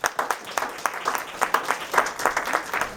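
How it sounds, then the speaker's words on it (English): An audience applauds with a burst of quick, uneven clapping that keeps a steady intensity throughout, no one talking over it. "Please get a big hand for Mr. Cassius Ali."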